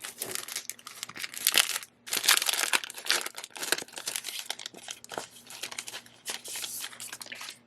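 Sticker sheets are pulled out of crinkly plastic packaging, with bursts of close crackling and rustling broken by short pauses.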